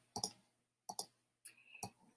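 Keyboard clicks as the Command G shortcut is pressed on a computer keyboard during Illustrator work: four short, crisp taps spaced roughly half a second apart, fairly close and quiet, with no talking.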